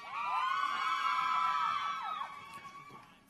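Cheers, whoops and shrill yells rise from the audience at the 2017 NCSSM commencement ceremony, a sustained burst of crowd noise that fades out toward the end.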